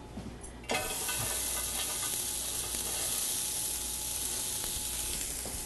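Shallots hit a hot pan and break into a loud, steady sizzle of frying that holds for several seconds after a sudden start, with faint clinks of a utensil.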